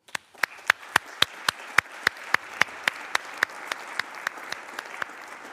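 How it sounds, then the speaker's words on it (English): Applause from an audience at a high-level parliamentary meeting, a steady wash of clapping with sharp, evenly spaced loud claps standing out near the microphone, continuing unbroken. "Let us give them a round of applause."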